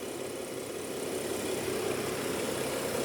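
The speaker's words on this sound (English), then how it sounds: "Very happily idling turbocharged 6-cylinder." A BMW F10 535i's turbocharged six-cylinder engine idles steadily, heard up close with the hood open as a smooth, even rumble and whir that holds constant throughout, with no talking.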